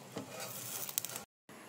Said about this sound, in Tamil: குழம்பு வந்து கொதிக்கிறக்கு ஆரம்பிச்சிருச்சு.